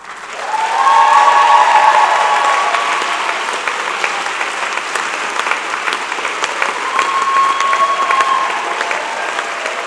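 Family and friends standing at a spring convocation applaud the graduates, loud, sustained crowd clapping that swells quickly and continues steadily, with faint whistles and cheers rising above it.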